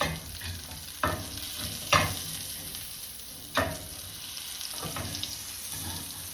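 A ribeye steak sears in hot oil in a pan, a continuous close sizzle broken by a few louder bursts as the meat is shifted or pressed, with no talking over it.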